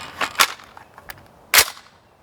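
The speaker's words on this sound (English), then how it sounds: "push the button, rip the mag, get a new mag" Steyr AUG-A3 rifle magazine pulled out and a fresh one slapped in, a few sharp metallic clacks close up, two strong snaps with lighter clicks between, no voice.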